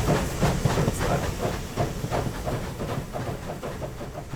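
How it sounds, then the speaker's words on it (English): A steam train rolls past in a video game, with hissing steam and a rhythmic clickety-clack of wheels repeating about every half second, loud and close with a constant rumble underneath. "We're probably going to run right into the train here."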